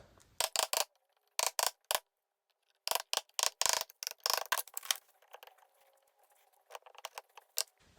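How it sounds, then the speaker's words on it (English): A punch taps a rusted snap ring on a 1st-gen Honda Fit front wheel bearing, producing sharp, close metallic clicks in quick bursts of three to five strikes separated by short pauses. "I'm giving the snap ring some taps with a punch to maybe break it loose."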